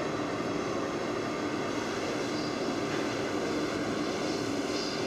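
A lathe machining a workpiece, the tool boring a center hole before turning and face plunging, a loud, steady mechanical whir with a constant tonal hum and no breaks or voices.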